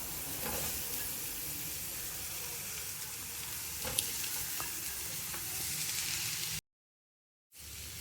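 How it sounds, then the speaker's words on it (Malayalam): Chopped garlic and shallots frying in hot oil for a spicy Kerala-style prawn roast, a steady close sizzle with light stirring scrapes, then a brief silence before the frying resumes. "അരിഞ്ഞു വെച്ചിരിക്കുന്ന വെളുത്തുള്ളി ചേർത്ത് കൊടുക്കാം ഇതിലേക്ക് അരിഞ്ഞ് വെച്ചിരിക്കുന്ന ചെറിയുള്ളിയും ചേർത്ത് കൊടുക്കാം"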